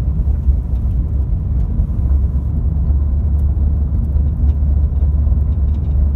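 Steady low road rumble from inside an eighth-generation Honda Civic LX-S cruising at about 30 mph while towing a trailer carrying bikes, a constant engine and tire drone with no talk.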